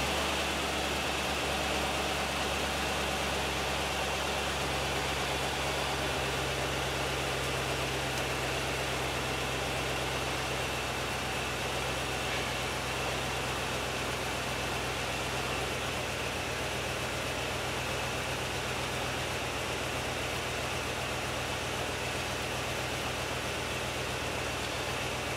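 A Ford 460 EFI V8 idles in neutral with a steady, close, low rumble and an even mechanical hum, holding a constant drone with no talk over it.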